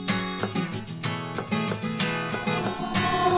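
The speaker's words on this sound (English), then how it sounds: "today we are learning how to do a reverse reverb effect" A short musical passage processed with a reverse reverb effect in Logic Pro X, tonal swelling notes with pulsing attacks, moderately loud and without talk.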